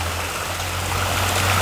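Steady broadband rush of a water jet swirling around a circular fish pond stocked with red spot grouper, the inlet about three-quarters open; a continuous near churning wash with a low hum beneath, no talk.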